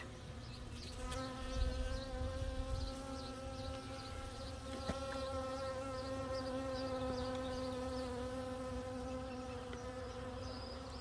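Bees buzz steadily around poppy flowers in a close, droning hum, with a louder pass now and then, quiet and continuous with no voices.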